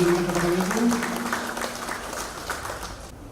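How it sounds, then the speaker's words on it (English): An audience applauds at an energy-saver competition launch and awards ceremony; steady, dense clapping fills the room and tapers slightly toward the end, with a brief voice faintly audible at the start. "A round of applause, ladies and gentlemen."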